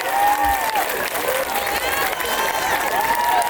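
An audience applauds a choreographic dance ensemble, with loud, sustained clapping and crowd noise. Voices and whoops rise over the applause, and it stays strong the whole time.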